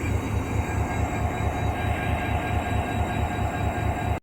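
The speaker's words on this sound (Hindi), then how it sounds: "और आगे देख लेते हैं लोकोमोटिव को। ये आज का लोकोमोटिव है" Inside a railway station on the Karachi line, a standing locomotive rumbles with a low, steady throb and engine hum, continuous and fairly close, then cuts off abruptly at the end.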